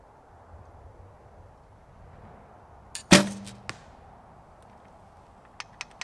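A recurve bow fitted with Win&Win NS-XP foam limbs releases a single sharp shot with a brief string thump, followed by a few faint clicks from the grip, close up in a quiet setting.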